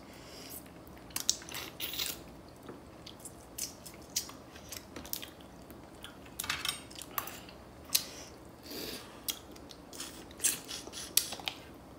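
Utensils clatter and crack against shells and a plate while spicy chilli garlic crab and mussels are broken open at a dinner table, giving a steady scatter of close, sharp metallic clicks and scrapes with no talk.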